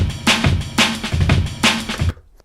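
A loud drum break plays solo: thumping kicks and crisp snares in a tight, funky groove, cutting off suddenly after a couple of seconds.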